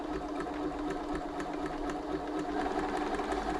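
A Bernina B325 sewing machine running in reverse on the bench, its motor whirring steadily with a fast, even clatter of needle strokes, close and continuous, with no talk over it.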